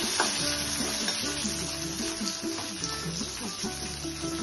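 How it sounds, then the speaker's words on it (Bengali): Cashews frying in a pan with already-fried tomatoes for a paneer curry make a continuous close sizzle, with occasional stirring scrapes and a faint hum behind it. "টমেটো ফ্রাই করে কাজু দিচ্ছি, কাজুগুলোকে এবার ফ্রাই করে নিই।"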